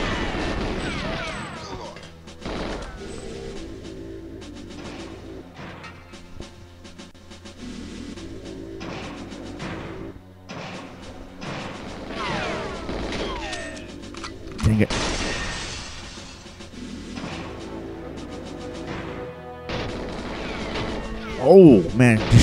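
Gunfire and smashing in the mainframe room of GoldenEye on the Nintendo 64, with repeated bursts of shots and crashes of computers being hit, loud and irregular, mixed with game music and someone talking over it.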